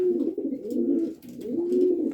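Pigeons in a village loft coo close by, a series of soft rolling throaty calls repeating in quick succession with no talking.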